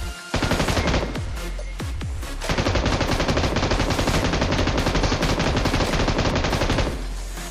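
Rapid automatic gunfire in a close 1v1 fight in the battle royale game BGMI, loud sustained bursts filling most of the stretch with short pauses between volleys.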